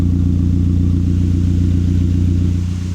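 Car engine idling steadily right after its first start in over four years, a loud, close, even rumble with a regular pulsing beat that continues throughout.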